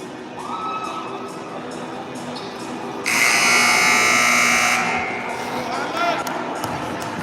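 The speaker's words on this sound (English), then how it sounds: "You can hear the crowd behind me." A crowd at a girls' high school basketball game in a gym cheers, swelling into a loud burst of shouting in the middle before settling back into steady arena noise with a voice talking over it.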